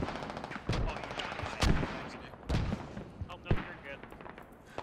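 Scattered gunshots ring out in a Squad battle near a bridge, several sharp cracks at irregular intervals over a background rumble, moderately close, with faint voices mixed in.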